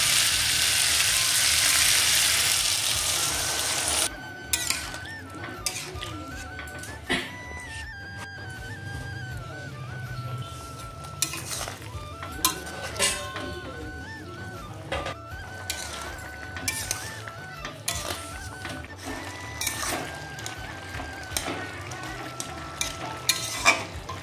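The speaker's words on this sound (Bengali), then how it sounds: "এবারে এর মধ্যে আমি জল দিয়ে দেবো।" Broad bean seeds and potatoes fry steadily in a pan as water goes in, giving a loud rushing sizzle at first that settles into continuous frying with scattered scraping and clinking from stirring.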